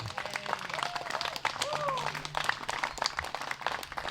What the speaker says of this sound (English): let's give a round of applause to James for hosting this for us